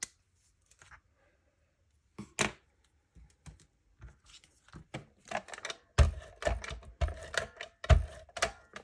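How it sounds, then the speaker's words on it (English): Card stock being trimmed on a paper trimmer while making a folded greeting card, heard as a series of close, dry clicks and short cutting strokes, sparse at first and then denser, with no talking. "just about the center, trimming that extra little piece off"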